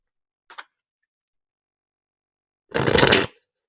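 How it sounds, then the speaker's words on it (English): A deck of cards used for a general card reading is shuffled up close: a faint quick flutter, then a single loud half-second riffle, with no talk. "shuffle them anyways. Even though the cards are already flying out."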